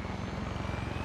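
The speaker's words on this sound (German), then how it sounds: "Genau, und da ist schon der Helikopter." A helicopter in Far Cry 6 thrums close and loud with a rapid, pulsing rotor beat over a steady engine drone, no voices over it.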